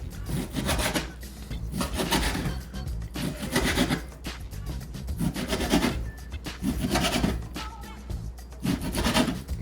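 A knife slices bacon into thin slices in a rental-kitchen setting, giving repeated rasping, sawing strokes in a steady back-and-forth rhythm, close and moderately loud, with no talk.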